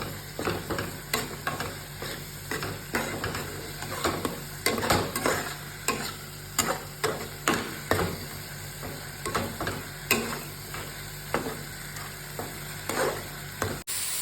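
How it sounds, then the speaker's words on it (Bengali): Onion, potato and tomato with Kashmiri chilli powder being stirred in a cooking pan for a light meat curry, a steady run of close spoon scrapes over a soft continuous sizzle, with no talking. "পেঁয়াজটা ভালো করে মিশিয়ে নিই"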